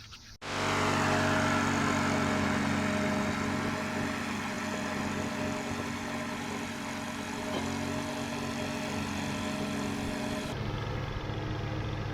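A zero-turn lawnmower engine is cranked up and settles into a steady, loud droning run, its even hum holding close for about ten seconds before the tone shifts slightly at the end.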